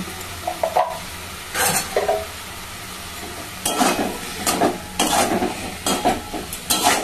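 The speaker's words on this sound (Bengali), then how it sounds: "সব সিদ্ধ কিন্তু, আলু ফুলকপি, ভালো করে কষিয়ে নেবো।" Boiled potato and cauliflower are stirred and fried in a pan, with a soft sizzle under repeated scraping and clanking strokes of a utensil against the pan.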